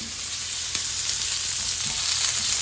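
Scallops sizzle steadily in a frying pan with garlic powder and salt as they are stirred, a close, continuous broadband hiss with a few faint scraping touches and no voices.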